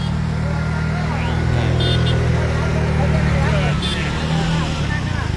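Vehicles grind along a potholed main road in Hiriyur town, a loud continuous rumble of engines and tyres with motorbikes passing and voices murmuring underneath.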